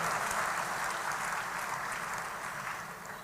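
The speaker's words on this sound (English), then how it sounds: "applause, ladies and gentlemen, for the Blema Cultural Troupe." An audience at a town hall meeting in Ghana applauds the Blema Cultural Troupe with dense, steady clapping that fills the whole stretch and eases off slightly toward the end.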